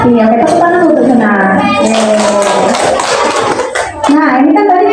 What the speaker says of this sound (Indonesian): tepuk tangan untuk Juna